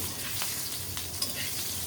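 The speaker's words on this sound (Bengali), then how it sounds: "শিং মাছগুলো নেড়ে ছেড়ে ভালো করে লাল লাল করে ভেজে নেব" Shing fish fry in hot oil with a steady, close sizzle, broken by brief scraping stirs.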